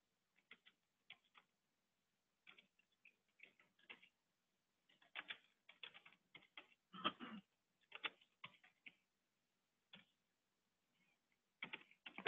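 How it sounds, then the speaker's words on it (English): Keys on a computer keyboard clack quietly in scattered bursts and short runs, close by, with gaps of near silence between the taps. "Oops, my typing is not the best today."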